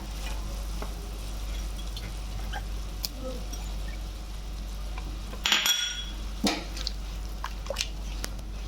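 Chopped carrot tipped into hot oil in a pan, with a low steady sizzle throughout and a brief louder burst of frying and clatter midway, followed by a few light utensil clinks.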